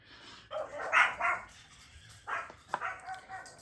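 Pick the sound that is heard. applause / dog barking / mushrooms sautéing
dog barking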